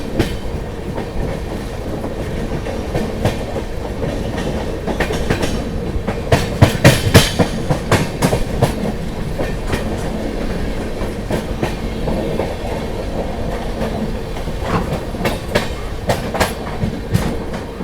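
The Gorakhdham Superfast Express runs on rails past Burwal Junction in a loud, continuous rumble, with rhythmic clickety-clack from the wheels and a dense burst of clacking near the middle, and no talk.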